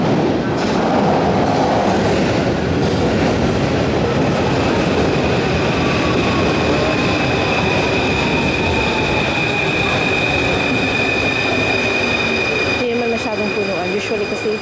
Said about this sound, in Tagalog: Ito yung train galing sa kabila.